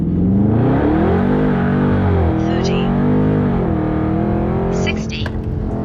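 A Dodge Charger 392 Scat Pack in track mode accelerates hard, its engine note climbing steadily and loud throughout with a brief shift-like dip near the end, heard close from inside the car.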